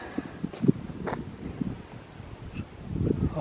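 Gusty wind buffets the microphone at a small campsite near Arnhem, a low, uneven rumble with brief louder puffs, moderately faint and with no voices.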